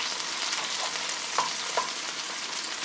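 Shrimp frying in a pan for a creamy garlic butter dish, giving a steady close sizzle with faint crackles and a couple of brief clinks throughout.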